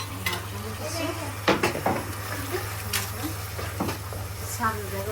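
Cumin and coriander sizzle in a hot pan while a spoon stirs and scrapes, giving irregular metallic clinks over a constant frying hiss, with voices in the background.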